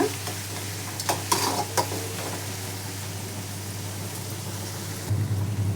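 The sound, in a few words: onions and curry leaves frying in a pan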